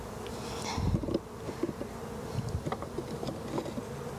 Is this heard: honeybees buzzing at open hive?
yes